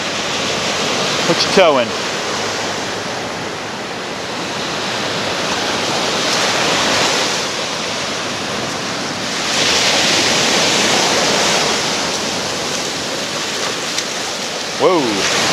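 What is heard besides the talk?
ocean waves breaking on a beach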